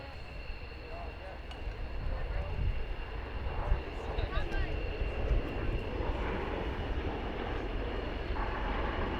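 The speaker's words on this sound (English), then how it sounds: "Those aircraft have a slightly uprated version of the G91's Bristol Siddeley Orpheus engine." A Fiat G91R jet with a Bristol Siddeley Orpheus engine roars steadily at an airshow, a broad, sustained engine rumble heard from a distance with faint crowd noise underneath.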